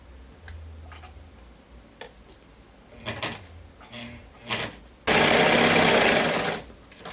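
A sewing machine stitches a jumpsuit with a loud, dense burst of rapid stitching near the end, preceded by handling clicks and taps of fabric and machine.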